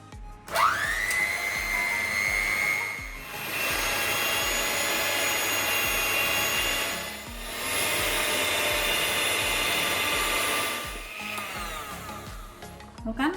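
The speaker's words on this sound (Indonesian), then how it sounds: "Selanjutnya kita akan mixer telurnya dan gulanya ya." An electric hand mixer whirs steadily as it beats eggs and sugar for a gluten-free mandarin cake, a loud continuous motor whine broken by two short pauses.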